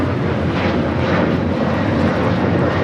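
A heavy Airbus jet departs Los Angeles airport, its engines making a loud, steady roar that fills the clip with no break.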